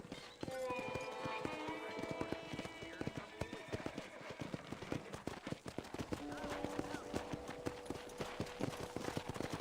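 Hooves clop in a quick, uneven rhythm as horses trot nearby at a ranch corral in Red Dead Redemption, with an occasional whinny and a voice talking over them.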